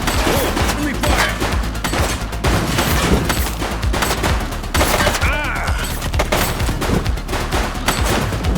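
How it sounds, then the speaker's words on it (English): Rapid bursts of gunfire crackle almost without pause in the police video game The Precinct, loud and dense, with scattered crashes and impacts mixed in. "Shots fired!"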